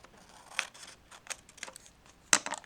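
Scissors cut off the corner of a paper card with quiet, close snips, a few soft cuts followed by a sharper, louder snip near the end; no one speaks.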